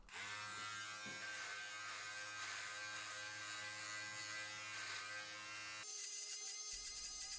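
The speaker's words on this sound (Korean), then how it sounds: "제 트리머 내부에 잘린 수염들이 쌓이는 구조라서 이런 식으로 2단계로 나누어서 트리밍을 했어요." Electric beard trimmer cutting through a two-month-old beard, a steady close buzzing hum with a grinding edge that holds throughout, shifting pitch briefly near the end, with no talking.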